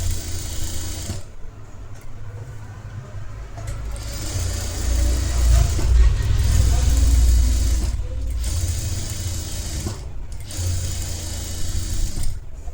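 A sewing machine stitches netted blouse lining in close, loud bursts of rapid mechanical whirring and clatter, stopping briefly between runs, with a low motor hum underneath and no talking.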